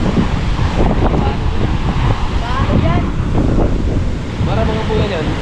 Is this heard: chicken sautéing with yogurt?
no